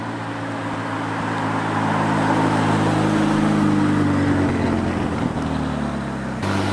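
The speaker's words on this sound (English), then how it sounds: "That was a McLaren 570 GT." A McLaren 570 GT drives past, its engine note rising to a loud, close roar mid-way before fading and cutting off, with no talking over it.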